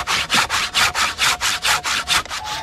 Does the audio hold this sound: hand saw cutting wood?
yes